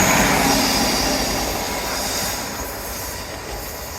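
Train rumbling past along a seawall, a loud broadband roar with rail noise that slowly eases as it passes, heard close with no talk.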